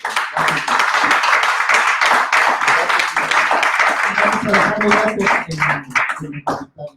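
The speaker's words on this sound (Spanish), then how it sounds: "yo ahorita quería que le diéramos un aplauso a la doctora César." Audience applause at a talk on effective communication, steady broadband clapping from a crowd filling the room, with voices talking over it toward the end as it breaks up.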